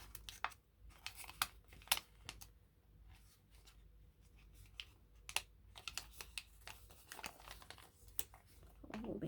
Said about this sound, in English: Folding one side. Folding the other side.